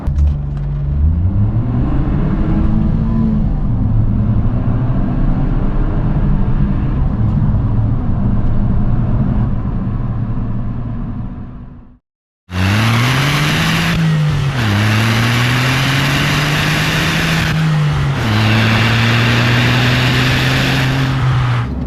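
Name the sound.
remapped Smart 451 Brabus car engine accelerating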